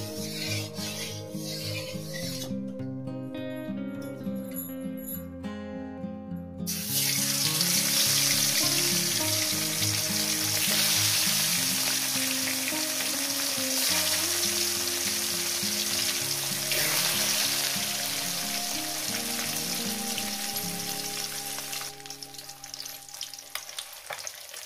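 Pieces of katla fish drop into hot oil and fry. A dense, close sizzle swells louder after the first few seconds, with faint kitchen clinks and steady background music, and no voices.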